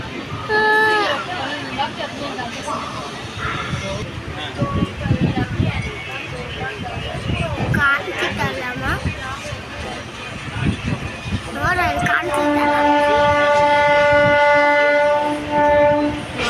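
A passenger train pulls out of Yeshwanthpur station, with loud continuous rolling rumble and rattling and a sustained horn-like tone near the end. People chatter around it.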